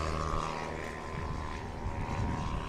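A propeller STOL aircraft takes off under the green flag at the Pony Express STOL Competition in St. Joseph, Missouri, flaps down on its roll, giving a steady, loud engine and propeller drone that holds throughout.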